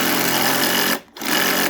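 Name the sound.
Bosch drill driving screws into fixings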